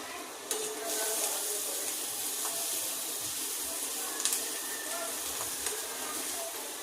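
Onions frying in oil for a bitter gourd dish, a constant bright sizzle with a few spoon scrapes and taps, steady and close.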